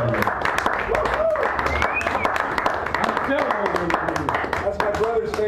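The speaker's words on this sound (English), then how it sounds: "give a round of applause for this young individual here" Scattered clapping rises from the crowd at a poetry reading in a San Francisco café, mixed with talk and chatter and carrying some loud, close claps.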